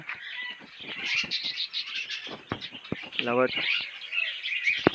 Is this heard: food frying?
no